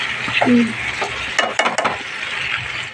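A spoon stirs food cooking in a pan, giving a few scraping strokes over a steady close sizzle, with a short clatter of utensil against metal partway through.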